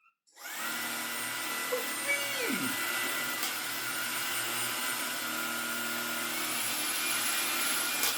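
An Eleckeys K30 cordless vacuum cleaner with a stiff brush roll switches on and runs over carpet, picking up wet cardboard. It gives a loud, steady motor whine close by, and a faint voice is heard beneath it.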